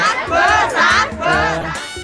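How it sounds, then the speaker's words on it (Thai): Studio audience at a Thai TV game show cheering and chanting together, loud, close and sustained in rhythmic surges over about two seconds with no talk on top. "ถ้าพร้อมแล้วช่วยกันเชียร์นะครับ"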